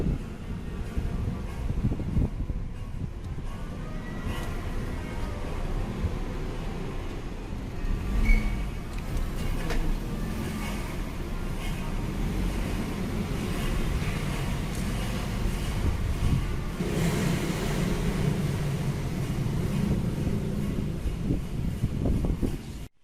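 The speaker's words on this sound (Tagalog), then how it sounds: "pag nagda-drive ako, merong naririnig na parang alam mo yung hinihilang yero" Continuous loud grinding, scraping rumble from a car while driving, like sheet metal dragged along, running steadily throughout with road and wind noise, briefly swelling in places.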